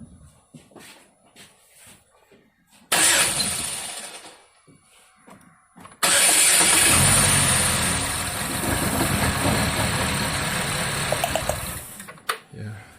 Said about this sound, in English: Yeah, number 2 is definitely firing. That's a loud pop.